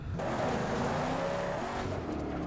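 A car engine revs hard in the Mad Max video game, a loud sustained roar with shifting pitch and a brief tire screech, running steadily for a couple of seconds.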